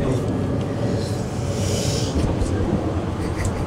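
Steady low rumble inside a moving train carriage, a continuous loud rolling drone with a hiss of wind and track noise and no clear breaks, heard alone without talk.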